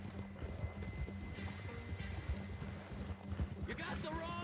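Horse hooves clip-clop in a steady run in the video game Red Dead Redemption 2, close and fairly loud, with talking over the hoofbeats.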